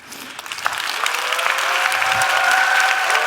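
Audience applause at a talk, beginning sparse and swelling into steady, full clapping from a sizable crowd that carries through to the end.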